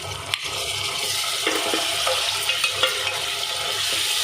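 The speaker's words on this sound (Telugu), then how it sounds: "రొయ్యలు వేసుకుని ఈ నూనెలో ఇవి కూడా బాగా ఫ్రై అయ్యేలా వేగనివ్వాలి." Prawns frying in oil with onion and green chillies for an Andhra-style gongura prawn dish, a steady sizzle running throughout with a few small clinks and stirring scrapes near the front.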